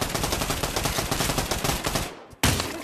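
Rapid gunfire from a revolver in the VR shooter Pavlov, a dense volley of loud close shots that cuts out briefly near the end before firing resumes.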